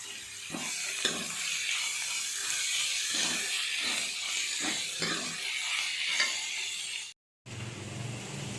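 Flour roasting in a hot pan for a radish jholi, stirred steadily with a spoon scraping through it; a continuous near sizzle and hiss carries the whole stretch, with a brief dropout near the end.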